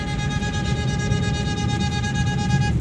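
Car horns are held down at a busy roundabout in Islamabad traffic, making a steady, sustained tone that stays loud and unbroken over a rumbling bed of road noise.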